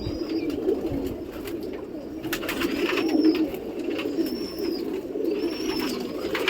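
Pigeons in a loft give soft, repeated cooing over a steady low murmur of birds, with occasional faint higher calls and wing rustles nearby.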